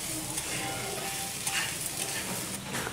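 Vegetables and beans frying with turmeric and salt for sevai upma, a steady close sizzle with light stirring scrapes.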